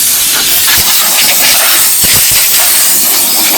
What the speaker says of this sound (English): obviously we need to lose some air